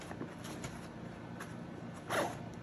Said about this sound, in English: Let's go ahead and undo this zipper right here.